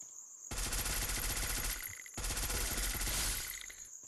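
Rapid automatic gunfire from Free Fire, two loud sustained bursts separated by a brief pause, with no talk over them.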